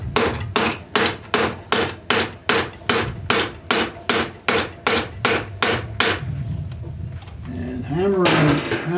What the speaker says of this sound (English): we're going to pull it this way with the tongs and hammer it with the hammer